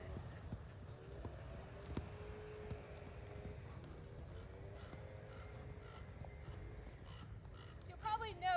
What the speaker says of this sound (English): So I'll demonstrate a little bit of sitting trot.